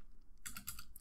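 Keyboard keys tapped in a short quick burst, close and fairly quiet, a few clustered clicks ending in one sharper stroke.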